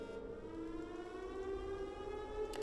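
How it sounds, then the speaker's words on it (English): Alarm siren in the nuclear reactor game Nucleares, a sustained wailing tone that holds steady and swells slightly, loud and continuous throughout. "I can see an alarm is going off"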